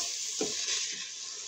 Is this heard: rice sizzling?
yes